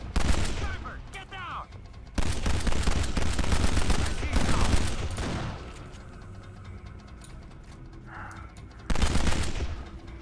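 Sniper gunfire at a prison tower in the video game Kane and Lynch: Dead Men, with dense bursts of rapid shots and booming fire over several seconds and voices shouting in between.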